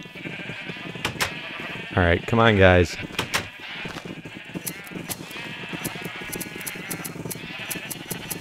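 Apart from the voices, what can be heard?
sheep bleating in Minecraft video game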